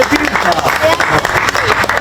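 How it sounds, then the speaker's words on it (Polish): Applause for an award winner at a league sports prize ceremony, steady clapping across the whole stretch with a voice talking over it. "Michał Pieczkola, wielkie brawa!"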